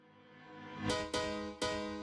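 A reversed piano chord sample swells slowly from quiet to loud, then cuts off into a couple of sharp chopped re-hits. It is heard on its own in a tech house production.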